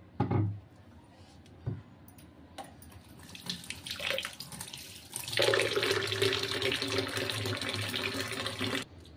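Water pours from a tap onto semolina soaking for kurdai, starting after a few knocks and clatters and then running as a loud, steady gushing stream until it stops near the end.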